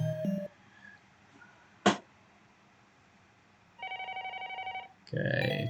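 A telephone rings in the Japanese mystery video game Yamamura Misa Suspense, a short electronic ringing burst near the end among quiet game sounds.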